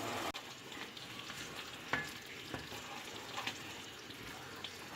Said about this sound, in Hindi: ये देखें सूजी भून रही है